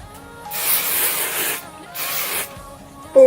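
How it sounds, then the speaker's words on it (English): Redken Diamond Spray high-shine finishing mist sprayed onto hair in two close, loud hissing bursts of about a second each, separated by a short pause. "I'm gonna go in with the Redken Diamond Spray. This is a high shine airy mist"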